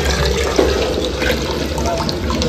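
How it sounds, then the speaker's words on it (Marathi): Water swished out of a pressure cooker into dal: a continuous close pouring and splashing rush, fairly loud and steady for the whole short stretch, with no talk. "तसंच कुकरमधलं पूर्ण एकदा पाणी खंगळून घेतले."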